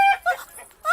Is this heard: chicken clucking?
yes